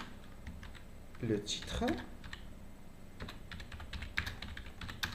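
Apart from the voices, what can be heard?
typing on a computer keyboard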